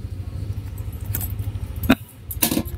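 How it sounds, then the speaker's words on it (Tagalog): A key rattles and jangles at a Yamaha Sniper 150 (Vperman) motorcycle ignition, with a small click near the middle and another jingle near the end, all over a low steady background hum. "Ngayon, subukan naman natin sa susi, manual."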